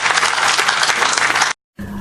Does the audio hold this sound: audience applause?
yes